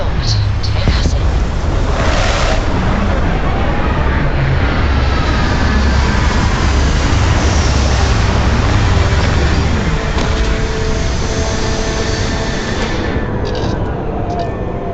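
A spaceship lands in the video game Starfield with a loud, continuous engine roar that holds steady for the whole stretch and thins slightly near the end.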